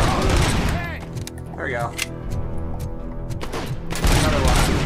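Rapid gunshots from the video game RoboCop: Rogue City come in loud bursts over a busy in-game background, while someone talks briefly between them.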